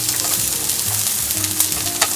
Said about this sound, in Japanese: 玉ねぎも 250g 炒めます